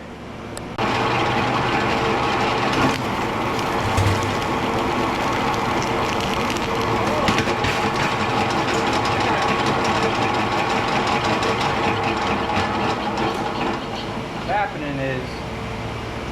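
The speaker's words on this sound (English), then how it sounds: "I'm going to dial this in, and then we're going to strip all this big wire real quick." A Copper King wire stripping machine processes big copper wire with a loud, continuous mechanical drone and grinding hum, occasional knocks and clicks throughout, close by.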